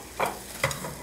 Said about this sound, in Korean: 다진 양파를 넣어서 볶아주시면서 썰어놓은 시금치를 넣어주겠습니다